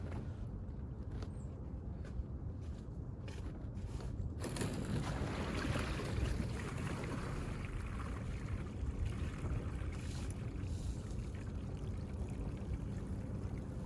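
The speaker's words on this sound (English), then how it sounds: "you could still hear a little bit more water in there sloshing around" Water sloshes and gurgles inside a flooded jon boat's hollow hull, with a few sharp knocks early on, then a steady wash of churning water close to the microphone.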